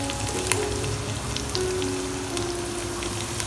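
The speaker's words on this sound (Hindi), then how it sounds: "सारे मसाले हमारे अच्छे से फ्राई हो गए हैं।" Spices sizzle and crackle steadily in hot oil in a pan as tomatoes go in while making aloo palak sabzi, a dense continuous frying hiss at even, close loudness with a few sharper pops.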